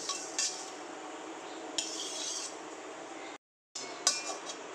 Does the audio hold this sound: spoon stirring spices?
yes